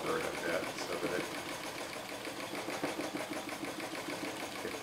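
A vintage White sewing machine free-motion quilts through leather with a steady, fast mechanical whir and needle chatter that runs throughout, up close, while a person talks over it.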